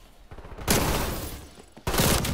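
Two loud bursts of rapid automatic gunfire in an online shooter gunfight tournament, each crackling volley lasting around a second, with a short quieter gap between them.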